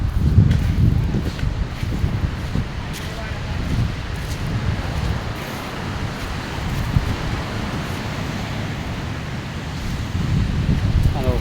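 Wind and sea waves wash steadily against a beach shore. The low roar is continuous, with gusts buffeting the microphone throughout.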